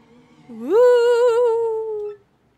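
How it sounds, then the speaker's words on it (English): An eerie, wavering ghost voice from Paper Mario: The Thousand Year Door rises into a sustained, warbling moan, heard alone and loud for about a second and a half before cutting off. "that freaky voice is making noise again"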